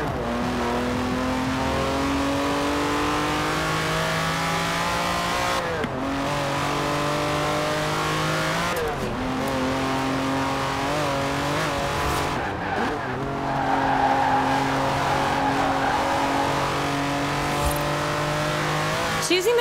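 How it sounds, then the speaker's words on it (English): Lamborghini Countach engine in Forza Horizon 4 revs hard and loud through repeated upshifts, each rising pitch climb cut by a gear change, with tire squeals and skids mixed in and a voice talking over the roar. "this car just wants to go. So go, blast past that speed camera"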